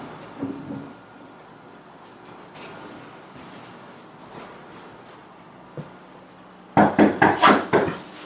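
Several sharp knocks in quick succession on a door, loud and close, following a stretch of quiet room noise with a few faint thumps.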